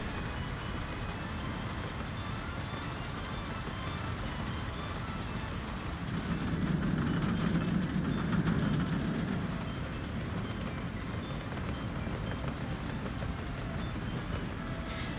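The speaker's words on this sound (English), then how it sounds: "I just absolutely love the trains in this game. It's absolutely amazing. Like the sounds and everything." Trains running in the video game Workers & Resources: Soviet Republic, a steady rumbling rail roll with a swelling low passing rumble midway, continuous and moderately loud, no talking.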